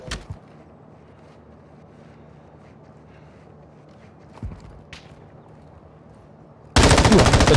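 Video game gunfire in a squad shooter: a sharp shot at the start, another around the middle, then a loud burst of rapid automatic fire near the end, with a low steady background hum.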